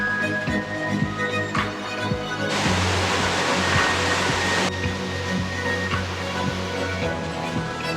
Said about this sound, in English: What a cool experience to be behind a waterfall.